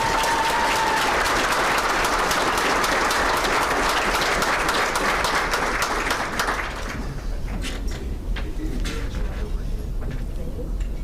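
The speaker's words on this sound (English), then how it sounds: "Please give a round of applause for Nina Evans." Banquet audience applauding an award recipient at a university awards and hall of fame dinner, a dense, steady wash of many hands clapping that thins into scattered claps toward the end.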